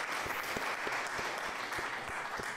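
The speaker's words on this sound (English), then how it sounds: "A round of applause for Bishop for coming in today." Studio audience applauds a departing guest named Bishop, a steady round of clapping with distinct individual claps standing out over a dense wash, moderately close and continuous throughout.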